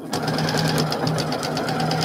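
Sewing machine stitching through thick quilt batting, a steady, loud mechanical hum with a continuous rapid needle rhythm and no pauses throughout.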